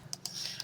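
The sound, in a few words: loud clicking of the player's computer mouse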